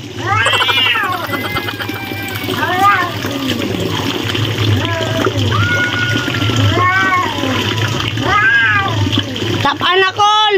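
Cats fight and meow loudly, giving a run of drawn-out, rising and falling yowls and wails close by. Voices and a splash of water come in between the calls.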